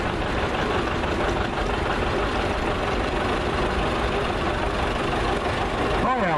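A loud John Deere 730 diesel tractor engine idles steadily and close by at a parade, a constant low rumble and knock throughout.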